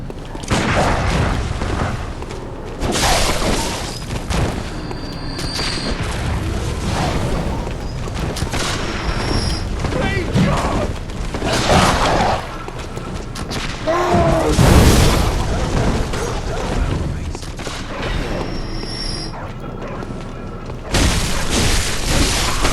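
Molotov cocktail explosions in the video game Bloodborne: repeated booming bursts over a dense, loud game soundscape, with a sharper blast near the middle and continuous rumble throughout.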